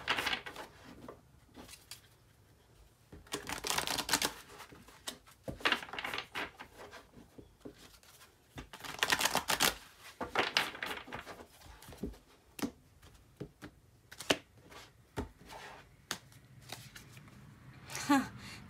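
Tarot cards shuffled in bursts of riffling and flicking, with quiet pauses between handfuls, close up, with a voice speaking intermittently.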